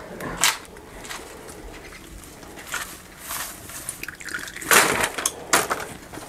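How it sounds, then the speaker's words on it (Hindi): Mustard oil poured into a hot kadhai for a rustic-style desi chicken curry, heard as soft liquid splashes and brief sizzling bursts, a few louder spurts standing out over quiet kitchen background. "तो हम लोग अभी इसमें सरसों का तेल यूज करेंगे।"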